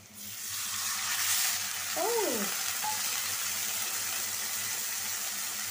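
Onions fry in a pan, browned and hissing with a strong, continuous close-up sizzle as water goes in, and a brief squeaky scrape rises partway through.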